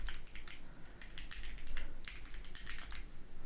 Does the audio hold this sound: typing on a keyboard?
yes